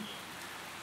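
Heavy rain pours down at an outdoor sky-lantern festival at a Buddhist temple in Anseong, a steady close hiss of drops striking surfaces throughout the brief moment.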